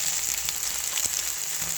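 Onions with cumin and ginger-garlic paste sizzling steadily in a pan as turmeric goes in, a close, even frying hiss with a few faint clinks and no voices.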